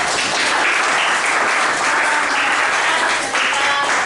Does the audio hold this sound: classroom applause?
yes